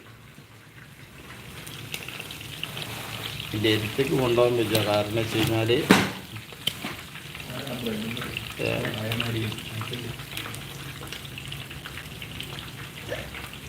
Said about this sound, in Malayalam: കോഴി പൊരിക്കുന്ന ലൈവ്